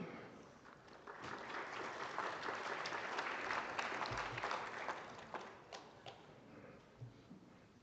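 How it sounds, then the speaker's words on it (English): Audience applause at a 4-H livestock judging awards ceremony, a crowd clapping that swells, holds for several seconds, then thins to scattered claps, with a couple of soft thuds. "It's okay to continue to clap."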